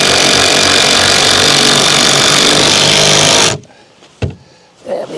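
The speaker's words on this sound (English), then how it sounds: "I'll put a few more screws in each of these" Cordless power tool whirs steadily and loudly for about three and a half seconds driving screws into a wooden strawberry planter frame, then stops abruptly, leaving a couple of brief knocks and handling sounds.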